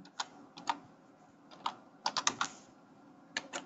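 Code being typed on a computer keyboard: scattered quiet key clicks, a few single strokes and then a quick burst of several, close but soft, in a quiet room.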